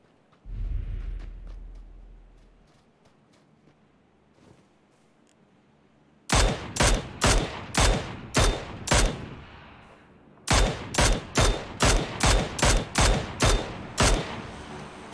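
Gunfire in PUBG, a battle royale shooter, during a compound defense: a quiet stretch, then a rapid burst of about five loud close shots, a brief pause, and a longer string of about ten more in steady succession.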